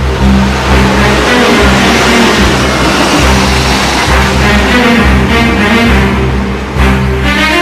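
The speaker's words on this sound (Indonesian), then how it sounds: "Itu pasti mobil Papa Vien." A car engine drones and revs as the vehicle drives up, loud and close, a continuous throaty hum that swells slightly near the end with no voices.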